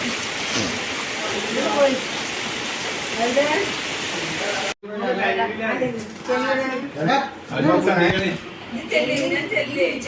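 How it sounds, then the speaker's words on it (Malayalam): Steady rain hisses in the first half under a person's voice, then the recording cuts to closer, clearer talking with the rain much fainter. "മഴ കാണിച്ചു തരാം"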